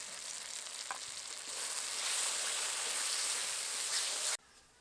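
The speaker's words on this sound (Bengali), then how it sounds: "এবার মশলাটাকে খুব ভালো করে কষিয়ে নেব" Spice paste of chili, cumin, coriander and fennel with turmeric, salt and sugar sautéing in hot oil for a sour jackfruit curry, a steady close sizzle with stirring that swells midway and cuts off abruptly near the end.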